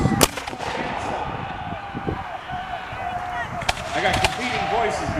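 Flintlock smoothbore muskets firing across the field at a Battle of Stoney Creek re-enactment, sharp distant reports over a constant crowd and outdoor din, with people talking throughout.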